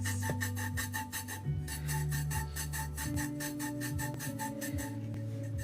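A pastel drawing of a rose being burnished by hard rubbing, probably with a thumb: quiet, rasping back-and-forth strokes repeating in a rough rhythm, close up, with no speech.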